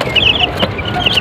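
Chickens cluck in short, overlapping bursts over a steady background of farmyard noise, close by and fairly loud.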